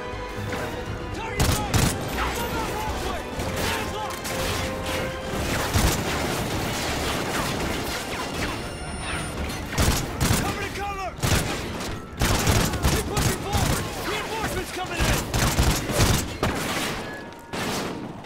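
Gunfire in the PC shooter Call of Duty: Ghosts, with bursts of rapid shots and heavy booms in dense, irregular volleys, loud and close, mixed with game sounds throughout.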